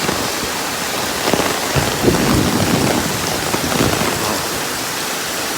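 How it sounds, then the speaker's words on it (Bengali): Heavy rain pours down steadily in calm, windless weather, a loud, even hiss of drops on surfaces with occasional low rumbles swelling briefly, and no talking. "প্রচণ্ড বৃষ্টি হচ্ছে।"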